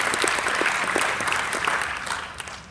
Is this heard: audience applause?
yes